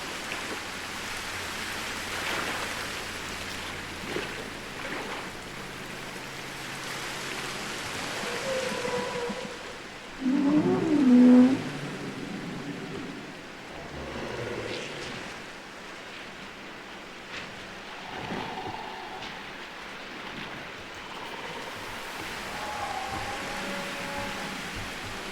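Rain in the video game Jurassic World Evolution 2 hisses as a steady, broad wash throughout, with a brief louder swell near the middle and faint tonal game sounds beneath, no voices.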